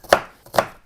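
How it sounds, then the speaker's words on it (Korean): A kitchen knife chops an onion on a cutting board in two crisp, close knocks about half a second apart, loud and clear, with no voices. "칼질 참 못하죠?"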